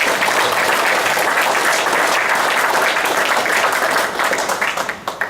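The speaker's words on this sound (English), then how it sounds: "That requires a big round of applause." An audience at an event honoring racing driver Hurley Haywood breaks into loud, sustained applause, a dense wash of clapping that thins and tapers off near the end.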